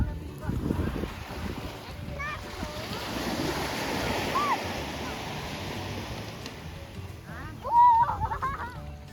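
Strong ocean waves break on a beach with a continuous roaring wash and wind buffeting, while a child's and adults' voices come through faintly over the surf.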